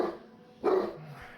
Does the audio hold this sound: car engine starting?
no